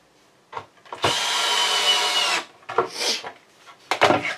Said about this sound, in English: So I've been putting all these screws in.